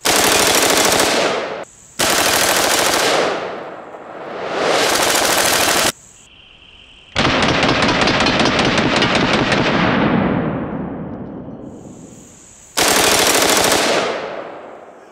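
A full-auto AR-15 rifle fed from a drum magazine rips off several long, loud, close bursts of rapid fire separated by short pauses, each burst trailing off with echo.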